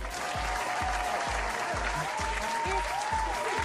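Audience applause from a crowd, a steady wash of many hands clapping throughout, fairly loud and close, with no talk over it.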